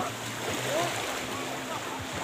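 Caspian Sea waves washing onto the shore at Aktau, a steady soft wash of surf and water heard from close by, with a faint voice in the background.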